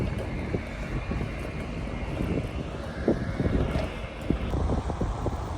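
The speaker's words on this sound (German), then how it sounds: "Hier zieht richtig der Wind durch." Wind rushes through a tunnel at Lake Garda, a strong, gusty roar with buffeting rumbles against the microphone, continuous and close throughout.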